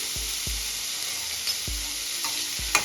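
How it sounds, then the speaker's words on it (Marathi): Vegetables for vegetable idli sauté with a steady sizzle in a pan, stirred with a spoon that knocks against the pan about four times at irregular intervals, close and loud, with no voices. "भाज्यांचा जो कच्चा वास असतो तो निघून जाईपर्यंतच परतून घ्यायचं"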